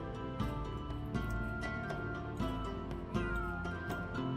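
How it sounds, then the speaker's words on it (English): Cat meowing in The Sims 3 video game, several short meows over a steady bed of game music, moderately close and fairly clear with no talking. "that is Barry, okay. Because I know that other cats are just allowed to wander right on through this territory"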